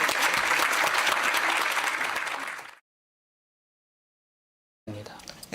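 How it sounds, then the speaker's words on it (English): An audience applauds the speaker Shin after a talk on democratic and human rights in Africa; steady, full clapping fills the room, then fades and cuts to silence before a short burst of sound returns. "Please let us again applaud Shin for coming here today and telling us about this."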